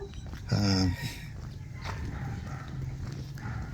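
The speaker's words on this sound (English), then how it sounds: "This guy always barks" A dog at a farm recovering after a typhoon gives one loud, close bark with a strong harmonic stack, followed by quieter outdoor ambience.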